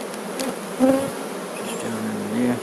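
Honeybees buzz in an open spring hive, a dense near hum with individual bees droning past, while a voice speaks briefly over them.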